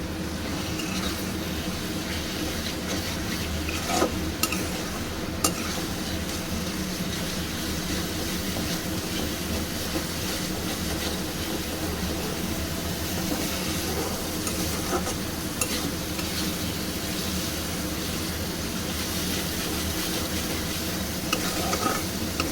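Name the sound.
spice paste (masala) being sautéed and stirred in a pan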